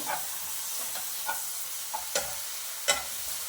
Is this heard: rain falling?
no